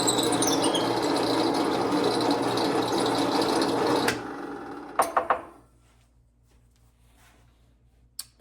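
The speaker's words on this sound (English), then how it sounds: "Now I've got a regular drill on here." A power drill whirs loudly for about four seconds boring a 5/16-inch hole in a rosewood or maple shifter knob, then stops; a few clicks and knocks follow before near silence and one final tap.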